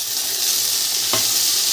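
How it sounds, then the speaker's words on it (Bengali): Dry chillies and five-spice seeds fry in hot oil with a loud, continuous close sizzle, broken briefly by a single scrape of stirring partway through. "ফোড়নটা কিন্তু একটু বেশি করেই ভেজে নিতে হবে।"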